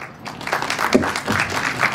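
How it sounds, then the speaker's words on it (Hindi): Audience applause following a speech at a school birthday celebration, a moderate burst of clapping from a room of people, uneven and fairly close, lasting a couple of seconds. "जोरदार तालियां"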